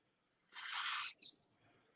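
A hiss plays alone in two bursts, a long loud one followed by a brief pause and a shorter second burst.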